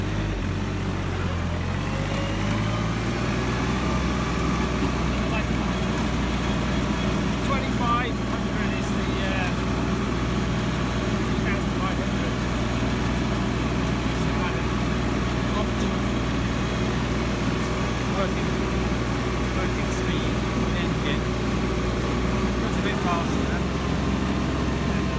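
A Captain 263 compact tractor engine runs steadily in second gear with a road scraper attached, a continuous low rumbling drone that shifts pitch briefly near the start and end, with a voice talking over it.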